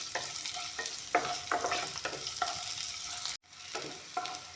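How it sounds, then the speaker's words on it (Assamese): Onion and panch phoron fry together in a pan with a steady close sizzle, broken by repeated stirring scrapes and a brief pause near the end before the sizzling resumes. "এতিয়া পিঁয়াজখিনি আৰু পাঁচফোৰণখিনি একেলগে অলপমান ভাজি ল'ম।"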